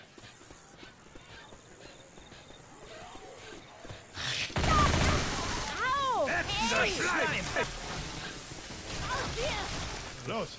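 Gunfire in the zombie shooter game Left 4 Dead 2, a burst of shots arriving around the midpoint amid game noise, with players talking over the action.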